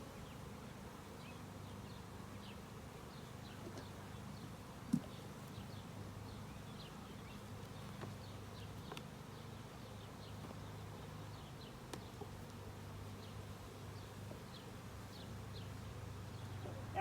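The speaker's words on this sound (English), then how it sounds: "you cause a lot of bees to fly" Honey bees buzz steadily in a close, faint drone while being stirred up for varroa mite sampling, a continuous insect hum with a few small clicks and taps.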